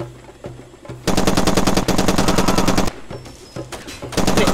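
Far Cry 2 video game gunfire: loud rapid automatic bursts, a long sustained stream of shots broken by short pauses, then more bursts after a quieter stretch, close with no talk.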